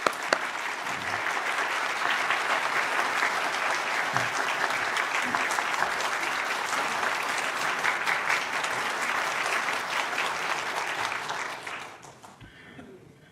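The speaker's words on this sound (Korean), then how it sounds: "뜨거운 박수 부탁합니다" A church congregation applauds warmly at an anniversary music service, a dense, steady wave of clapping that fills the room for about eleven seconds before tapering off at the end.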